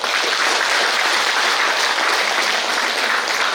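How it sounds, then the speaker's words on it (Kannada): A Teacher's Day audience breaks into loud, dense applause, many hands clapping in a steady, continuous roar close to the listener. "ಹಾಗಾಗಿ ಮೊದಲು ನಾವು ಚಪ್ಪಾಳೆ ತಟ್ಟಬೇಕಾಗಿರೋದು ನಾಲ್ಮಡಿ ಕೃಷ್ಣರಾಜ ಒಡೆಯರವರು"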